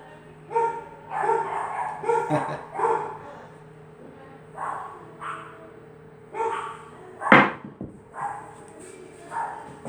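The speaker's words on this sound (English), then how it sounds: "it's my riled up dogs" Riled-up dogs barking in repeated bursts of excited yips and barks, close and fairly loud, with brief pauses between volleys and a sharp knock partway through.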